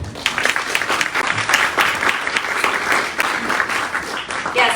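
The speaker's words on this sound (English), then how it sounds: "let's give Felicia another round of applause" Audience applause for a speaker at a board governance training session, close, even clapping from a roomful of people sustained throughout.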